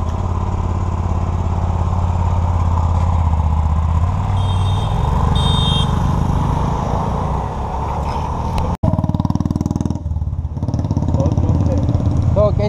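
A Hyosung 250cc motorcycle engine runs nearby with a steady, loud rumble that shifts in pitch midway, followed by a sharp knock and a brief dip before it resumes.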